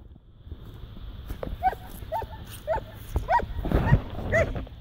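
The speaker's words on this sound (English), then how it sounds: "That's such a loud bark as well." A dog out on a walk in wide open space gives a run of about six sharp, loud barks at a steady pace, set against wind and outdoor background noise.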